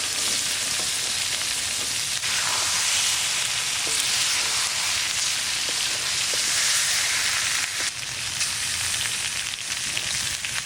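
Boiled eggs fry in hot oil for an egg curry, giving a loud, steady, close sizzle that crackles on without a break and with no voices.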